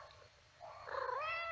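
A young female cat in a flower garden gives one soft, rising meow, fairly quiet and close, with no voices over it.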